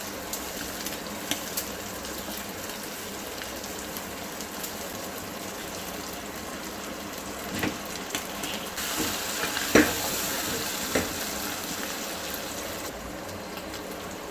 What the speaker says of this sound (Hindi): ये प्याज मैंने हल्का जो है ब्राउन कर लिया था, तो इसको हल्के हाथों से हम क्रश करके तो इसको डाल देते हैं